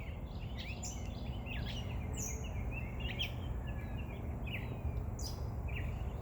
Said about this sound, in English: That might be a gray catbird singing, actually.